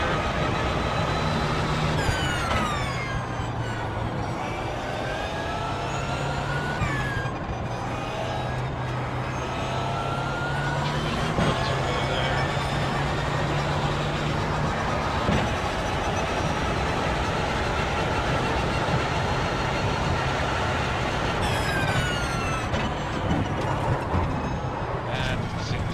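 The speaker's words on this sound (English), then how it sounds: "I love hearing that low-end diesel just chugging away when you're in the lower RPMs here." An Audi R18 diesel race car in iRacing, chugging at low revs with a deep, steady engine drone and rising and falling tones as it accelerates, loud and close under a speaking voice.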